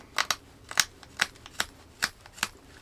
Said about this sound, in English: that pinching of the blade